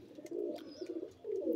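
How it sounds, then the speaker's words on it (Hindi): Several pigeons coo together in a busy flock, their low, throaty calls rolling in overlapping bursts close to the listener with brief lulls between. "तो इदा बोलते जिदा बोल रहे हैं सब कबूतर मस्ती कर रहे हैं फुल।"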